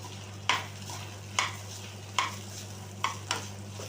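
Fried rice with vegetables being stirred in a pan, four evenly spaced scraping strokes of a spatula over a soft continuous sizzle and a low steady hum.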